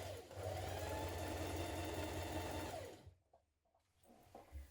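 A sewing machine stitches the seams of a Papercut Nova coat at a 1 cm seam allowance, running in one steady, close whir for about three seconds before stopping, followed by faint handling noises.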